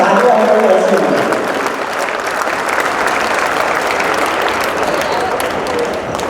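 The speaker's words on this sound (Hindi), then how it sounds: "एक बार दोबारा जोरदार तालियों से बच्चों का स्वागत" A large audience gives a loud, sustained round of applause to welcome children at the opening of an Asian yoga sports championship. The dense clapping continues throughout, with the voice of an announcer briefly heard at the start.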